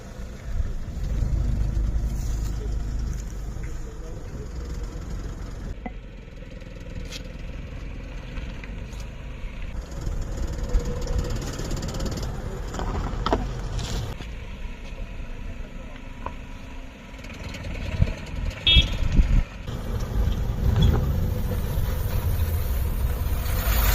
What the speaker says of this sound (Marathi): त्याच्यामुळे आता गाडी कशी काढायची हे बघून घ्या